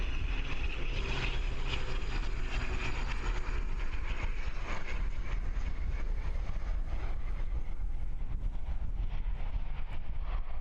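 An ATR turboprop lands at Christchurch Airport in windy evening conditions, its engines a dense, continuous roar with fluttering texture, loud and steady from start to finish with no talk.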